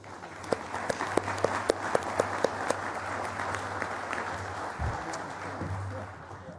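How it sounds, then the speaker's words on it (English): An audience at an annual meeting applauds a panel, with a dense wash of clapping and a few sharp distinct claps near the front, steady and then tapering slightly. "let's give a round of applause to our panel"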